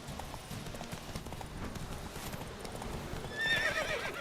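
Roach, the horse in The Witcher 3 video game, gallops with a rapid, steady clip-clop of hooves, then gives a clear, loud neigh near the end, with no talk over it.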